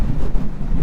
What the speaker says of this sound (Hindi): भाई बहुत तेज़ हवा चलने लगी है